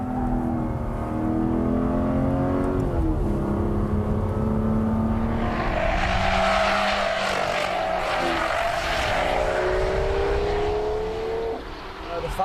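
An Aston Martin Vanquish grand tourer drives and accelerates, its engine note rising steadily through the gears with a surge of louder, rougher roar midway, heard from inside or close by.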